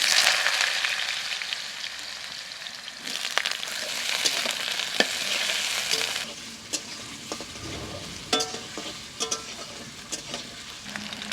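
Potatoes, black cumin and dried chillies frying in oil in a pan, a steady close sizzle broken by scrapes and clinks as the mix is stirred, with no talking.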